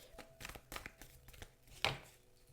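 Oracle cards being shuffled by hand, a quick series of dry papery taps and flicks, close and fairly quiet, ending with one sharper snap.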